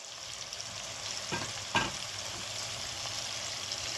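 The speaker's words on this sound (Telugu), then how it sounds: "వేసేసుకుని ఇలా వేయించేసుకోవాలండి" Sliced large onions sizzle in a pan for a gongura dish, a constant frying hiss broken by a single sharper stirring clatter partway through, with no talking.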